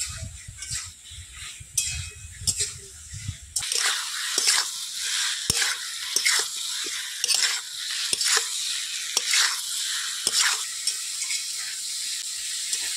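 Fried potatoes and Malabar spinach stems stirred into masala in a pan, with repeated scraping and clacking strokes of a spatula over a soft sizzle, following a short low rumble at the start.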